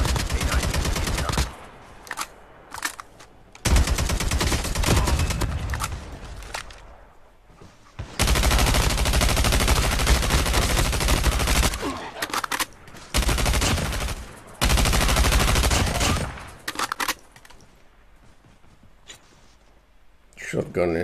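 Gunfire from shotguns and sniper rifles in the mobile game Call of Duty, loud bursts of repeated shots and long stretches of rapid fire broken by short pauses, with voices talking over the action.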